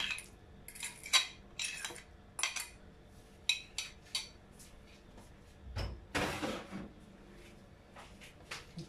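A spatula mixing three mashed ripe bananas into banana loaf batter in a home kitchen, giving a series of close clinks and scrapes against the bowl with short pauses and a louder, longer scrape near the end.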